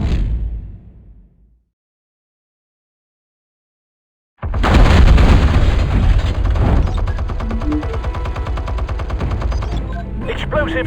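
Explosives detonate in a Batman game, a sudden heavy roar that bursts in after a near-silent pause and keeps rumbling and crackling loudly to the end.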